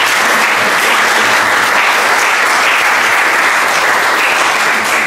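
A hall audience at a memorial concert claps in a loud, dense, continuous burst of applause that holds steady from start to finish, with no talking over it.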